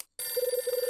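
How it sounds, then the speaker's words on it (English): A telephone rings in the Hotel Dusk video game, two quick pulsing bursts of electronic trilling after a short silence, over a soft background tone. "Phone again."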